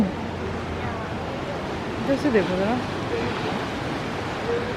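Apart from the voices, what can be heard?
fast-flowing river water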